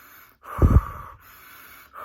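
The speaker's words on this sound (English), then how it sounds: "you do 25 to 30 deep inhales and exhales fast" One quick, forceful deep breath, a sharp rushing inhale and exhale close to the listener, during fast Wim Hof–style breathing, with brief quiet on either side.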